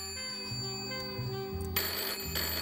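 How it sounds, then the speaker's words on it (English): A telephone rings on a late-night talk show set, a steady electronic ringtone with a sustained harmonic tone and repeating pulses, fairly loud and close, with no talk over it. "I thought I heard the phone."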